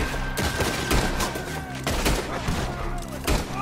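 Outdoor gunfight in Red Dead Redemption 2, with repeated sharp gunshots and volleys bursting out at irregular intervals over a steady background of game ambience.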